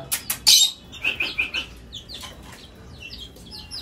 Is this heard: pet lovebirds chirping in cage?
yes